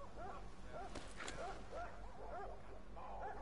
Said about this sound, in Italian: sono i cani che abbaiano.